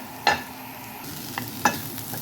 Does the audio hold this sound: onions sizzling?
yes